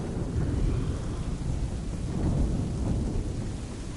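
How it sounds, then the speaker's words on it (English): Thunderstorm in Assassin's Creed 3: a steady, loud low rumble of rolling thunder with rain hiss, swelling slightly midway and continuing without pause or voices. "It's high time we find some cover from this storm, Captain."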